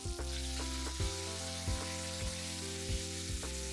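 Pork steak sizzling in a hot pan for ginger pork, a steady frying hiss punctuated by several regular knocks or clicks from tongs or the pan about every two-thirds of a second.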